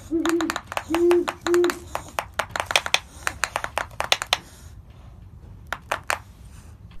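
An owl gives three short defensive hoots meant to scare off predators, followed by a rapid series of sharp beak clacks that trail off into scattered snaps, close and fairly loud.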